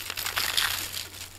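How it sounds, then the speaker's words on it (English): Dry seed scraps tipped from a bird cage tray into a plastic bag, giving a soft, continuous rustle and crinkle of plastic and loose seed husks for just over a second, close by with no talking. "I'm just going to carefully tip it into the plastic bag"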